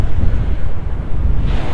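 Wind gusts across a UK beach and buffets the microphone with a loud, low, rumbling roar that stays steady and close throughout.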